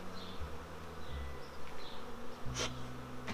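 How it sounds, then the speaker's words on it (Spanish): Honeybees buzzing at a hive, a dense hum with several bees' tones shifting in pitch as they fly close, fairly quiet, no voices. "como hay abejas y hay faena"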